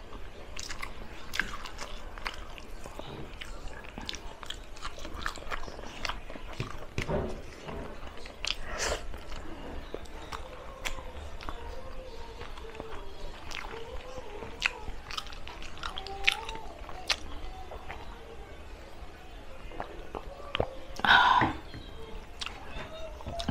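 Someone eating garlic longganisa with vinegar, soft crunchy bites and wet chewing close to the microphone in a quiet room, repeated throughout with little talk.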